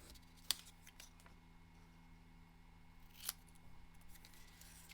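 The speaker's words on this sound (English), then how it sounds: "so I'm just going to cut this at an angle." Scissors snipping paper at an angle while a stamped collage card is made: two sharp, isolated snips a few seconds apart, close-up against a quiet room.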